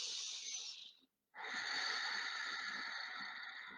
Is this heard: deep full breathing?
yes